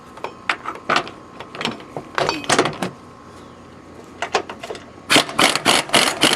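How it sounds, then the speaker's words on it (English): An impact wrench removes the rear shock nut on a 2005 Chevrolet Tahoe, rattling in repeated short bursts, loud and close, with a longer run of rapid hammering at the end and no talking. "I'm going to go ahead and put an impact wrench on that nut right there and see what happens"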